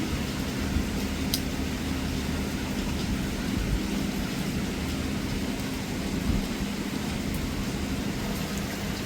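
Steady rain falling outdoors with a low, continuous rumble of thunder beneath it, a dense and even wash of sound with no voices.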